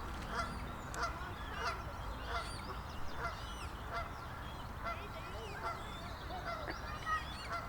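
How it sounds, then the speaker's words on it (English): Repeated Canada goose honks ring out across an open park, some nearer and some farther off, over a steady rumble of background noise. "It's a Canada goose."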